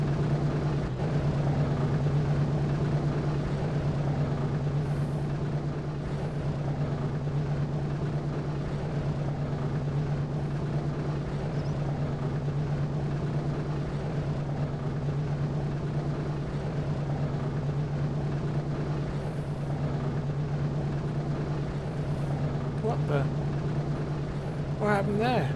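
B-17 bomber engines taxiing in a video game, a steady droning propeller hum that stays constant throughout, with talk over it.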